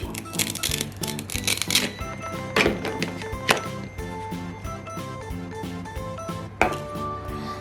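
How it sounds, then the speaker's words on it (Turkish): A knife chops an apple rapidly on a cutting board, giving quick repeated knocks with a few sharper thuds. "Elmayı doğrayayım."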